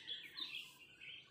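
Birds chirp busily in a garden where potatoes are being planted in styrofoam containers, with faint, high, overlapping calls heard at a distance.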